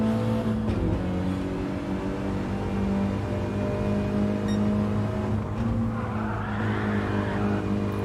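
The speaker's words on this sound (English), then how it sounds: "Drifting that mini into this final corner" A mini radio-controlled race car drifts into the final corner of the Tsukuba track, its high, whining engine holding steady tones as the tires squeal and skid, loud and close, with no talking.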